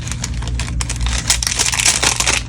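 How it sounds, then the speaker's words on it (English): A loose, crinkly rustle of many light die-cut paper confetti pieces tumbling and sliding out together, dense and continuous, close by with no talking. "Now I've done some die cutting of the other ones, and I'll dump them out."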